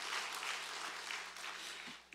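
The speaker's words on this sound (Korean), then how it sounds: "찬양 받으신 하나님께 영광의 박수 올려드리겠습니다" A church congregation at a Sunday worship service claps together in a short, even burst of applause that sounds somewhat distant and soft.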